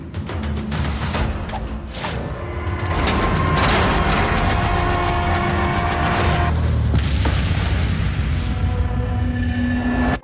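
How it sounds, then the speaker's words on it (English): A loud explosion from the hidden-object video game 7 Dark Tales sounds as a dense, roaring blast that rumbles on for several seconds with crackling mechanical debris and no voices. "the explosion wasn't that large"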